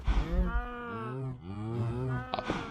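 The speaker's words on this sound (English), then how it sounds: "We can see there's some baby cows down there." Cows in the video game Minecraft, including baby cows, give long low drawn-out moos, fairly close and clear, with a brief click near the end and no talk over them.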